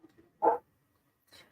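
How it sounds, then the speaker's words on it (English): A pet dog indoors at home gives a single short bark, moderately faint and somewhat distant, followed by a softer brief noise in an otherwise quiet room. "if you hear the dogs barking"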